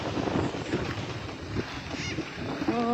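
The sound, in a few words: wind blowing across an open field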